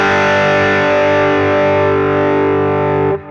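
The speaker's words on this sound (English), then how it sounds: "I think the good old Super Overdrive, which is a classic old Boss unit with a bit of gain." Electric guitar played through a modelled Boss Super Overdrive pedal on a Hotone Ampero II Stage multi-effects unit, a loud, sustained, gritty chord ringing out with moderate gain before being cut off near the end.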